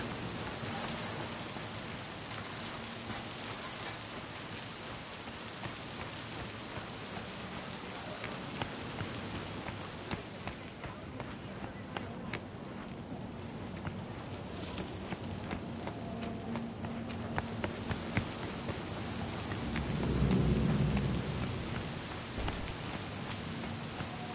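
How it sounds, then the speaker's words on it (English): Steady video game rain pours down with a dense hiss, a low rumble of thunder swelling near the end. "It is raining, pouring, and snoring."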